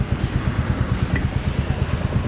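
A 2021 Royal Enfield Classic 350 single-cylinder engine idles with an even, low thumping pulse, close and steady throughout the short stretch.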